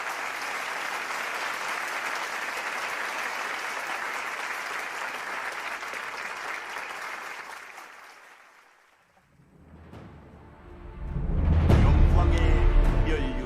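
Thunderous, sustained applause from a large audience at an anniversary celebration ceremony before a cultural performance, steady for about eight seconds, fading out, then followed by louder music-like sound.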